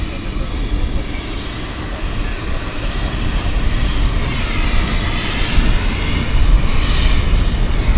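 Beechcraft 1900D twin-turboprop medevac aircraft at Vancouver Airport, a loud, steady engine roar with a rising whine that builds gradually across the whole stretch, heard up close.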